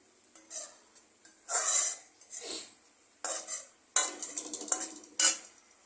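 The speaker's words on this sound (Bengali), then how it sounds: "এটাকে মশলাটা দিয়ে আলুটাকে একটু ভালো করে কষিয়ে নিতে হবে।" Potatoes are stir-fried with spices in a pan for a fish curry, with a utensil scraping and clattering in bursts of several strokes separated by short pauses; only a faint sizzle sits beneath the metallic scrapes, and no one speaks.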